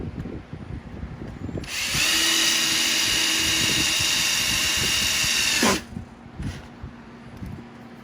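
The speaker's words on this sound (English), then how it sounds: "So you drill the rivet out." A power drill whines loudly and steadily for about four seconds while drilling out a rivet on a Sea-Doo Spark TRIXX exhaust, then cuts out abruptly, with a few rattling clanks before and after.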